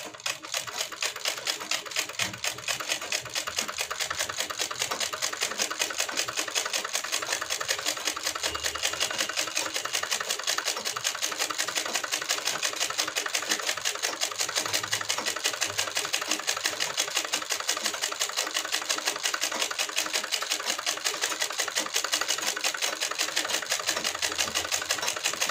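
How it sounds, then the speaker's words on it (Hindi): A sewing machine stitches a wavy decorative line along a Patiala salwar hem, running with a fast, even mechanical chatter that stays steady and close for the whole stretch. "फिर हमें इसके ही जस्ट बगल से एक और सिलाई लगा के लहरिया बनाना है।"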